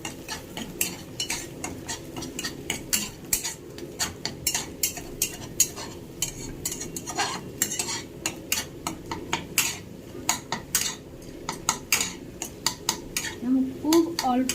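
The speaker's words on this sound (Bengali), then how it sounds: "ডিমটাকে ভালো করে ভেজে নেবো, একদম ঝুড়ি করে নেবো যাতে চাউমিনের সঙ্গে মিশে যায়" Salted egg is fried and scrambled in a pan for homestyle chowmein: a spatula or spoon scrapes and taps against the metal in quick, irregular strokes over a faint sizzle, close and moderately loud.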